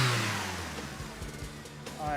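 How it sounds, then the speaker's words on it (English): A turbocharged Honda Civic D16 engine with an open exhaust manifold revs in short bursts, rough and nearby, rising again at the end, with some talk faintly in the background. "Let's give it a rev here and see what happens."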